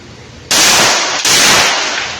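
A gun fired outdoors, two loud, sustained bursts of gunfire close by, the second following right after the first and trailing off slowly.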